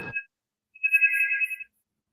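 A house phone rings with a short electronic trill, one brief burst followed after a pause by a longer sustained ring, clear and fairly close with no talking over it.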